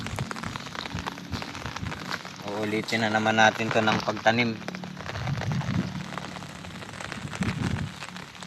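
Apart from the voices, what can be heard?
rain falling on rice field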